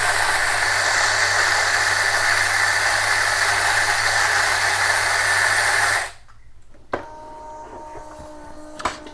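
An electric coffee grinder fitted with Aroma+ burrs grinds beans with a loud, steady rattling motor drone for six seconds, then stops; afterward come quieter clicks and handling noises.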